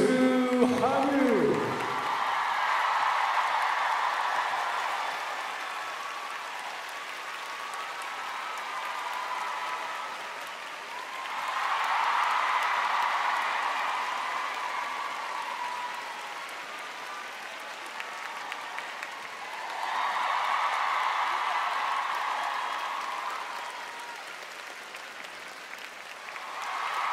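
Audience applause for a singer at the Fantasy on Ice 2023 figure skating show, sustained arena clapping swelling in three waves after a brief opening sound, with crowd noise throughout.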